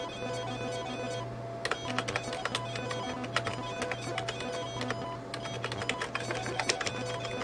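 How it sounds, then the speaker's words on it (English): Old PC game on a 386 playing through its internal speaker, a thin, frail rattle of rapid clicks and buzzy bursts like a weak dot matrix printer, over a steady low hum. "Sounds like a rather frail dot matrix printer operating or something."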